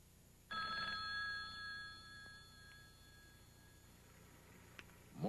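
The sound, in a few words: telephone ringing for an incoming call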